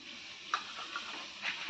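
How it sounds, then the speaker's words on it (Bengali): Sliced eggplant frying in a pan, a steady soft sizzle and hiss running throughout, quiet and close, with a few faint clinks or stirring taps over it. "বাবাকে এই যে দুটা বেগুন কেটে ভাজা করে দিচ্ছি"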